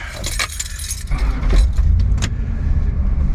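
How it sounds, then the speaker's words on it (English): Car keys jangle loudly up close as they are fitted into a van's ignition, a burst of metallic rattling followed by low steady rumble inside the vehicle. "guess I have to put keys in the ignition"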